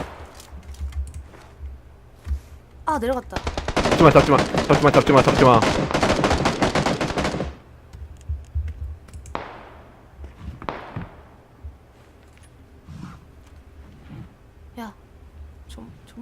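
Rapid bursts of automatic gunfire in the battle royale game PUBG, loud and dense for several seconds, then a few isolated shots, with players talking over the fight.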